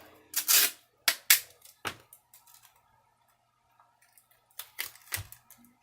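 Clear sellotape is torn from the roll and pressed down during a Makita impact wrench teardown, giving a few sharp close ripping bursts near the start, then quieter taps and a final cluster of crisp peeling and sticking sounds.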